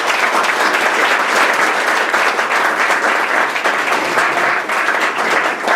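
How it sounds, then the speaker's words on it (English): Loud, dense audience applause fills the room at a startup accelerator demo day, sustained and even throughout with no break. "So please give a round of applause."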